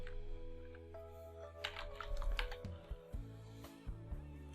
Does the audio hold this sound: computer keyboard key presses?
yes